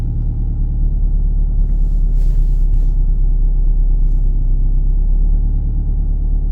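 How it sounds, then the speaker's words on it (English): A Nissan Sentra B16 rallycross car, already warmed up, idles with a deep steady rumble heard from inside the cabin, loud and constant with no talking. "start the car up."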